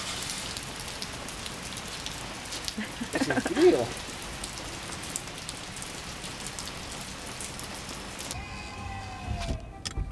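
Steady rain patters on a surface nearby, a constant hiss of drops, with a few faint spoken words and a distant siren-like tone near the end.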